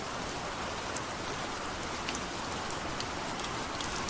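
Heavy rain pours down in Balasore during a storm with hailstones falling, a dense, continuous hiss of drops with scattered sharper impacts, steady and close, with no voices.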